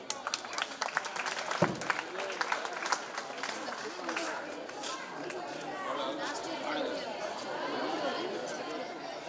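Applause and crowd chatter fill a teacher's retirement ceremony, a steady mid-distance wash of clapping mixed with talk throughout.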